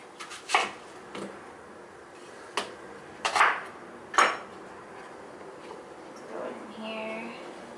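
Knife chopping an onion into quarters on a board, several sharp knocks spaced irregularly over a few seconds, close and clear with light kitchen handling noise between cuts.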